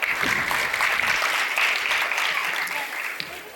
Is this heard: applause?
yes